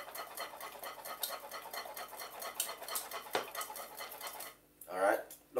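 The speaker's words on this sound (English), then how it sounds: "Give it a whisk." Green banana porridge whisked in a pot, quick rhythmic metallic ticking and scraping at a steady pace, faint and close, ending with a brief voice.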